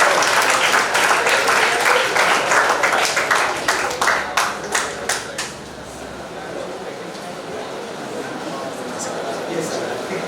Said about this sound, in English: So big loud cheers.